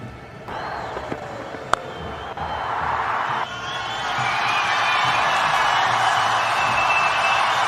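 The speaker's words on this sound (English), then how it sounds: "CSK crowd are buzzing here." The crowd roars and buzzes through a CSK IPL cricket match against Delhi Capitals in Chennai, a broad wash of distant cheering that swells louder after a few sharp cracks early on.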